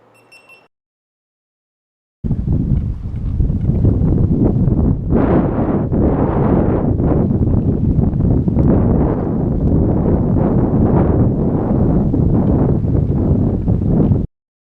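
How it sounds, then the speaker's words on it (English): Strong wind buffets the microphone on a fishing boat out on the water, a loud continuous roar with gusting surges that runs nearly unbroken for about twelve seconds after a brief quiet start. "it was pretty windy out there"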